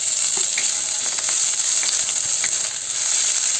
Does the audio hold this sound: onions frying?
yes